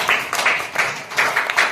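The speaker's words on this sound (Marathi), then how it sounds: "टाळ्या वाजवायच्यासाठी" Children clapping their hands, a quick uneven run of bright claps in small bursts, close and fairly loud, with no talking over them.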